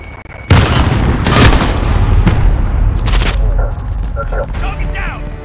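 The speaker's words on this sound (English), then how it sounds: "Enemy precision airstrike, take cover!" Video game precision airstrike sets off a sudden loud explosive boom followed by a string of further blasts and rumbling, with game voice lines heard over the fading din.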